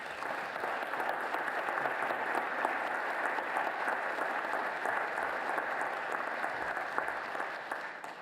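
Audience applause rings out at a groundbreaking ceremony for IU Health Bloomington as the President and CEO is welcomed to the podium: a steady, dense clapping from a sizable crowd, sustained for about eight seconds before tapering at the end.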